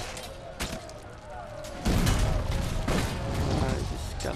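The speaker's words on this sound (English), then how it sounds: "launch the cannon." A ship's cannon firing in Risen 3: Titan Lords, with one heavy booming blast about midway that leaves a rumbling tail, followed by a few fainter thuds.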